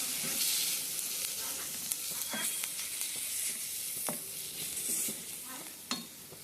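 Ginger garlic paste and turmeric fry with browned onions in a pan, a soft constant sizzle broken by repeated scraping strokes of a spoon being stirred through the mixture.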